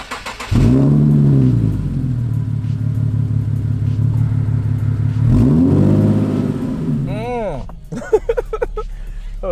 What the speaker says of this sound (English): Oh, that engine sounds amazing.